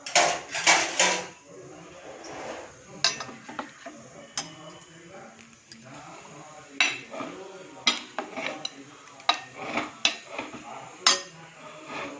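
Buttermilk curry (Tamil-style mor kuzhambu) being stirred in a pot over a low flame, with repeated sharp clinks and scrapes of a spoon against metal, a few clustered at the start, then spaced knocks throughout, close and moderately loud.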